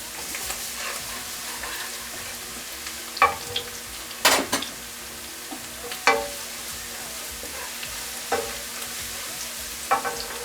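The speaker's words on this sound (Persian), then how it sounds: "پیاز در حالت سرخ شدن است." Steady sizzling of onions frying in oil, with occasional scraping stirs from a utensil breaking through; no voices.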